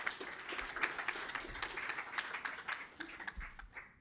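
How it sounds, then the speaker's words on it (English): A small audience at a talk gives light applause, scattered hand claps that rise and fall unevenly over about four seconds and taper off at the end. "Big round of applause."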